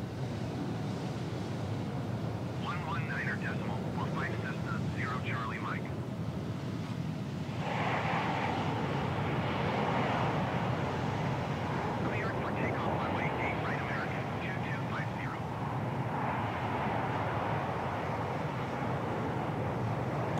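Boeing 737-800 airliner landing in Microsoft Flight Simulator 2020 at Miami International Airport, a continuous roaring wash of engine and wind noise with fluttering mid-range bursts, steady and fairly loud, no voices.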